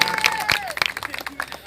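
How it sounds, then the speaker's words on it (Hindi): An audience claps at a live Bhojpuri folk song performance, with scattered, uneven applause mixed with crowd noise and a sung or spoken voice over the top. "क्रॉस ताली बजाइए आप लोग एक बार जोरदार तब मजा आएगा"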